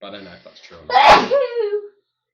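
A single loud sneeze bursts out mid-conversation on a casual podcast, preceded by someone speaking and trailing into a brief voiced exhale.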